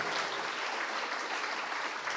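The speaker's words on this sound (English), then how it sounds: "Go ahead, everybody clap for him. Please, everyone clap." Steady, dense applause from a crowd, continuous and fairly loud throughout with no pauses.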